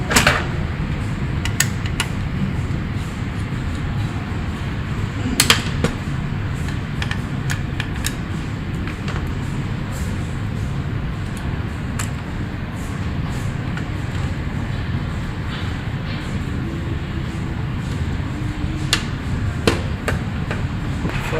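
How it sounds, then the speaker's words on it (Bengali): Metallic clicks and taps while a nut is unscrewed on the fixing unit of a Canon IR2520 copier during a jam repair, several sharp close knocks over a steady background hum, no talking. "একটা নাট খুলছি"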